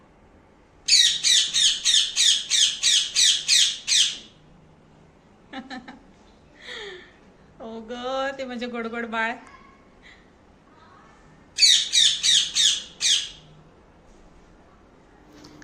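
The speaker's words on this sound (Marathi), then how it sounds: "आता इथे पोपट यायला सुरुवात झालेली आहे. तर आल्या आल्या तर त्यांना पहिलं ते आवाजच देतात, मोठ्या मोठ्याने ओरडतात" Parrots arriving at a feeder squawk loudly in two close bursts of rapid, harsh repeated calls, with a person speaking briefly between the outbursts.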